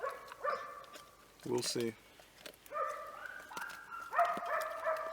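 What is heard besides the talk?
hounds barking in the woods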